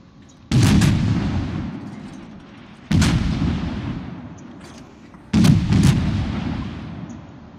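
Naval guns firing in World of Warships, three heavy booming salvos several seconds apart, each with a sharp crack and a long rumbling decay, loud and close.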